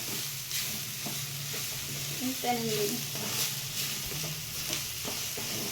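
Beans and raw coconut fry in a pan with a steady soft sizzle, while a spoon stirs and scrapes in intermittent strokes. The sound is close and moderately quiet, and a voice is heard faintly at times.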